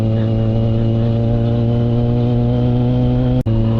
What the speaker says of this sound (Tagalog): Ako lang ba yung may gusto sa maingay na motor